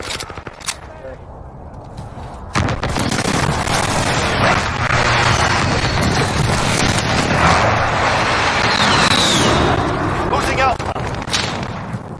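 Airstrike explosions in Call of Duty: Modern Warfare multiplayer: after a quieter opening with scattered shots, heavy booms and rumbling blasts mixed with gunfire fill the rest, with voices heard under the barrage.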